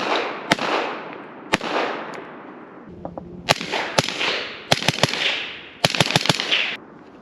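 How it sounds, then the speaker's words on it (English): Suppressed 300 Blackout rifle fired repeatedly, sharp cracking shots with long decaying echoes, first spaced singly then in quick doubles and a rapid string, loud and close. "I like running a suppressor because it's not disorienting me whenever I'm shooting it."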